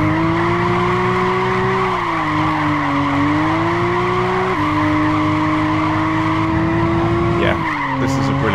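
A Toyota Aristo drifting in Gran Turismo 5 gives a loud, continuous engine drone whose pitch rises and falls with throttle shifts, over constant tire skidding and squeal, with no break across the run.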